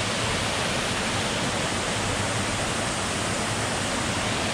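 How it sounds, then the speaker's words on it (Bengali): Durga Falls on Ajodhya Hill in Purulia pours in a steady, full broadband rush of falling water, constant and close with no pauses, with no talking over it. "আর এ হচ্ছে ভিউ দুর্গা ফলসের। জলটা এখান দিয়ে নেমে যাচ্ছে।"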